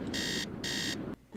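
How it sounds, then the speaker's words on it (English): Alarm clock in the Nancy Drew: Treasure in the Royal Tower game, ringing in two loud, steady electronic bursts with a short gap between them, then stopping. "So I'm going to set Nancy's alarm for 8 p.m."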